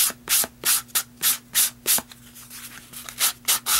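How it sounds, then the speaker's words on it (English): Rapid rhythmic rasping of a small sanding block scrubbing back and forth along the edges of a piece, close up, in steady repeated strokes with a brief pause midway. "I've got a little sanding block here, and I'm just going to sand the edges of this."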